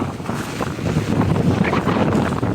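Strong wind in monsoon rain in Konkan beside a pond, a loud, continuous roar with heavy buffeting against the microphone, and no voices.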